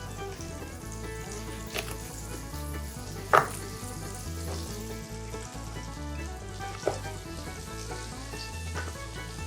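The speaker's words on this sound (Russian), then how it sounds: "Все, бросаю все на сковородку." Steady sizzling of entrecôte steak frying in a pan, continuous and close, with a few sharp clicks of utensils against the pan.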